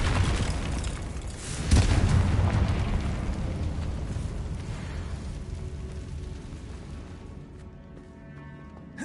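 Fiery blast from the Confringo spell in the Hogwarts Legacy video game, a loud booming burst near the start that rolls into a long crackling, rumbling decay fading over several seconds, with no talk.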